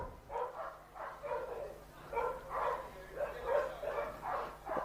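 A dog at an agility competition barks repeatedly at its handler in short, fairly close bursts, a steady run of yaps and woofs with little else around.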